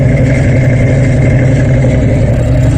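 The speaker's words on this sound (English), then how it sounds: "You hear the exhaust got a good sound to it." A show-winning muscle car's exhaust idling, a loud, steady, deep burble close up with no pauses.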